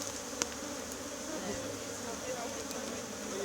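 Honey bees buzz steadily at a prison apiary in Guyana, a dense, continuous hum from many insects close by, with faint voices in the background.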